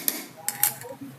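A popsicle mixture being handled in a large container, giving a few light clinks and knocks of a utensil against the container, close and brief.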